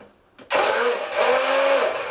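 An electric mixer kicks on abruptly and runs with a steady loud whirring drone, blending vegetarian mayonnaise with lemon juice, its pitch wavering slightly as it works through the mixture.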